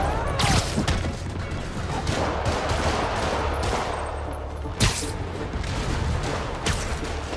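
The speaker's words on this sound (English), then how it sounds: "More rockets? A little excessive, don't you think?" Rockets launch and burst in Spider-Man Remastered, a continuous roar of blasts and crashes with a few sharper impacts standing out amid the loud action.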